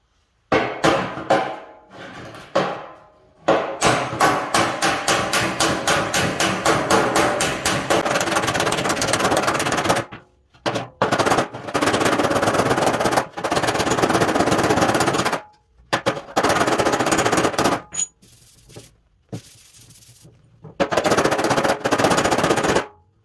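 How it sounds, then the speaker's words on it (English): Rapid metallic hammering with hammer and dolly, planishing a weld on sheet metal, long fast bursts of sharp ringing strikes separated by brief pauses, loud and close. "we're just going to use our hammers and our dollies and use the on-dolly technique"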